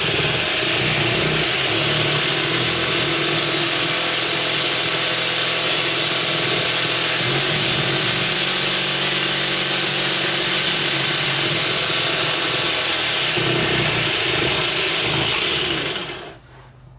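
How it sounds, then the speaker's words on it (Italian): A battery-powered hand saw, converted from 9.6 V NiCd to a 12.6 V lithium pack, runs unloaded with a loud, steady close motor whine and rattle that cuts off at the end; no talking. "vi farò vedere il seghetto funziona"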